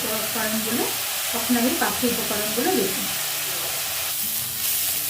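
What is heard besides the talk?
onion frying in oil in a pan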